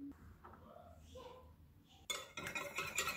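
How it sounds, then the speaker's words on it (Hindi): Eggs with crushed red chilli and salt being whisked in a bowl for street-style bun kabab, quick clinking strokes of utensil against the bowl arriving after a few seconds of soft talk. "अब अंडे में हम मिक्स कर लेते हैं।"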